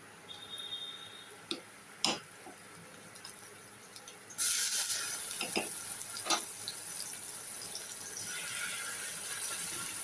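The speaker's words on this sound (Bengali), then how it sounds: "এইবার আমি এর মধ্যে যে পেঁয়াজ বাটাটা ছিল সেই পেঁয়াজ বাটাটা দিয়ে দিলাম" Onion paste goes into onions already fried red in a pan for rohu fish kalia, setting off a sudden hissing sizzle that keeps going steadily, with a few sharp clinks of utensils against the pan.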